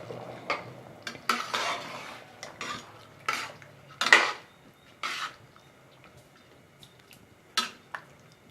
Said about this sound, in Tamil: சேர்த்துட்டு நல்லா கலந்து விட்டுக்கலாம்.